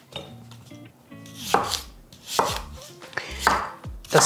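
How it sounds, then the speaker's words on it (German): A knife cutting a washed apple into pieces on a board, with several sharp chopping knocks at irregular intervals and faint clinks of kitchenware between them. "Dazu kommt jetzt unser Apfel, gewaschen. Wir schneiden das Kerngehäuse raus."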